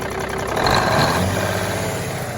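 A Cummins Big Cam 4 diesel engine is snapped from idle to a quick rev, its loud rough roar swelling then settling back, heard close and without talk.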